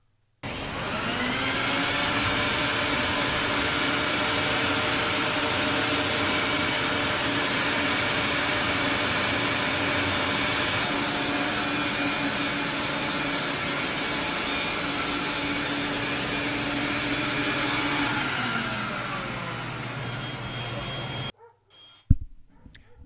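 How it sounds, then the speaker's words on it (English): Rug steam cleaner extraction machine drawing urine out of an oriental rug in a home, a steady loud motorized whine and suction roar running continuously for about twenty seconds, then cutting off abruptly, followed by a brief sharp knock. "Take a look how my cleaning process extract all the pee-pee through the rug."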